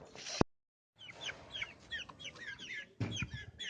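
Chickens, including a seal rooster and a black hen, clucking softly and repeatedly inside a stepped chicken coop, with a short sharp knock near the start followed by a brief gap of silence, then continued nearby clucking.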